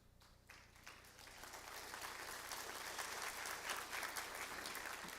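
Audience applause at a CSUSB leadership event, a broad crowd clapping that starts softly and swells to a steady, full roar across the hall, with no voices over it.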